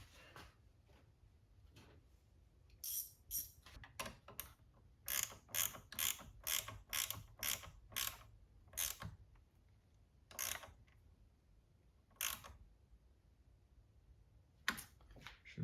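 A 12V battery terminal on a Chevrolet Bolt EV being tightened by hand, a run of quick metallic ratchet clicks in bursts, fairly close, with pauses between groups.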